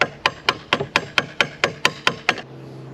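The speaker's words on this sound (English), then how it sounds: "are you hammering a hose off?" Hammer blows knocking a hose off an Audi engine, about ten sharp metallic strikes in a steady rapid rhythm, loud and close, then a low hum after the last hit.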